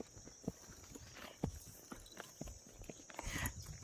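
Hooves of a Kathiawari mare clip-clop in a steady walking rhythm under a rider on a trail, close and fairly quiet, with a faint high hum and soft ambient noise behind, no talk.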